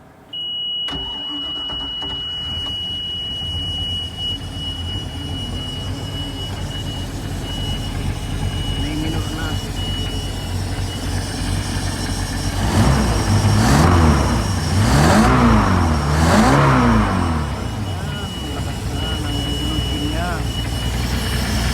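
A MerCruiser 5.0 boat engine is cranked after priming, catches, and settles into a steady idle, then revs up and down in several surges near the end, with someone talking over it.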